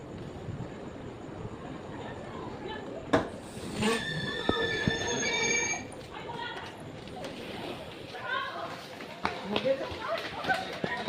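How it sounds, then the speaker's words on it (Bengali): The Kolkata–Digha special train pulls into Digha station on its first day's run, wheels squealing and carriages clattering with a rising metallic screech, while crowd voices murmur on the platform. "প্রথম দিনে ট্রেনটি সাতটা পঁচিশে ছত্রিশ মিনিটে দেরিতে দীঘায় ঢুকল"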